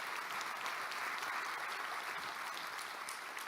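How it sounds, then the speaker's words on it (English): A church-style audience applauds steadily for several seconds, a dense wash of clapping hands at even loudness throughout. "Go ahead and applaud for that."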